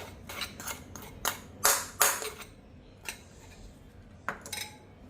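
Masala being mixed into raw mango pieces for a dry pickle, heard as a run of close, sharp metallic scrapes and clinks of a spoon against a steel bowl, with short pauses between strokes.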